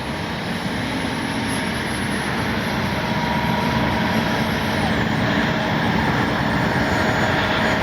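A twin 40mm electric ducted-fan RC F-22 Raptor model jet flies at full speed, its steady high-pitched whine loud and continuous, with a faint tone sweeping across the sound as it moves.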